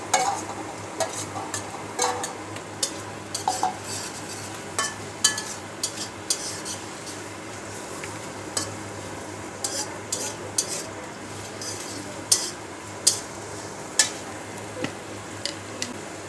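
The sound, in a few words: onion and green chili stirred and frying in a pan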